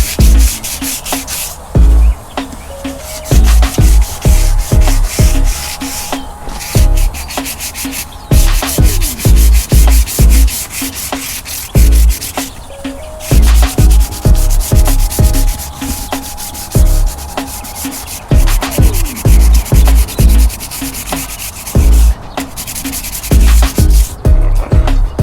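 A bass boat hull is sanded by hand during restoration, with steady rhythmic rubbing strokes repeating in close, loud bursts and brief pauses between passes, with no talking.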